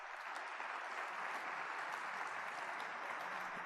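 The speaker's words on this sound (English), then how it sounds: "could we have a round of applause for them as well" Conference audience applauding sponsors, a steady, even wash of many hands clapping throughout, moderately loud and with no talk over it.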